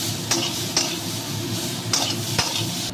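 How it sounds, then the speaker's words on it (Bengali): Jackfruit seeds sauté with turmeric in a pan, sizzling steadily up close while a spoon scrapes and clinks against the metal at a few irregular moments. "এবার দিয়ে এগুলোকে ভালো করে কষবো"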